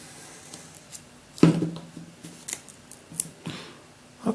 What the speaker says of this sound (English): let's try cutting the paper in a different way